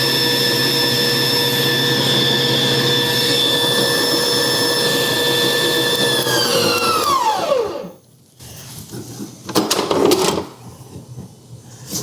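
A VIVOHOME 7.5-quart, 660-watt tilt-head stand mixer runs with a loud, steady whirring motor whine, then winds down and stops, followed by a few light clattering knocks.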